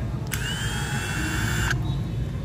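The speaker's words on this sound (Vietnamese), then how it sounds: "Máy vít chạy rất là êm." A Milwaukee 2997-23 combo kit screwdriver running at its lowest speed setting gives a single steady motor whine of about a second and a half, close and clear over low background noise.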